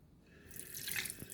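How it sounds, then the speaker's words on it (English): Kitchen tap water gushes over a plate being rinsed, starting after a brief quiet moment and then running in a close, splashing stream with a few drips. "rinse out the plate with a little water"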